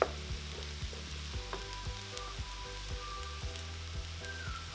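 Tofu sizzling in a pan of meat-free fried rice, a steady close crackle of frying with soft rhythmic stirring taps underneath, fairly quiet and with no talking.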